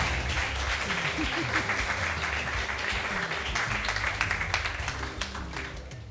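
An audience on a French TV show applauds a young participant named Kael, sustained moderately loud clapping with some faint voices mixed underneath.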